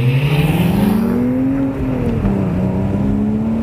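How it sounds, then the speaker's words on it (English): A 2011 Porsche Boxster Spyder engine drones loud and steady from inside the car while driving, its pitch rising slowly as it pulls, with a brief dip at a shift before climbing again. "That's what you expect a Porsche to sound like."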